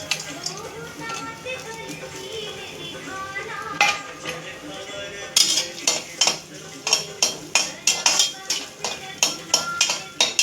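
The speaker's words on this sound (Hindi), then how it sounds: "मैं थोड़ा घी डाल रही हूँ क्योंकि मेरे को ड्राई फ्रूट भूनना है।" Dry fruits roast in ghee in a pan, stirred for sevai. A soft sizzle sits under metal spoon clinks and scrapes, which turn into a sharp, rhythmic series of strokes in the second half. Someone speaks briefly near the start.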